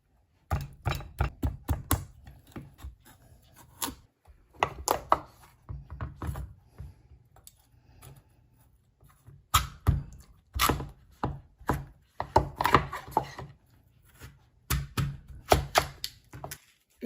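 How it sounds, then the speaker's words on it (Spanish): A pumpkin being peeled and cut on a board in a home kitchen while soup cooks, giving bursts of sharp, fairly close knife chops and taps in irregular clusters with short pauses between them. "voy a pelar mi calabaza."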